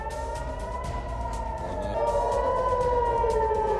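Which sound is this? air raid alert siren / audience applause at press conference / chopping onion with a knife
air raid alert siren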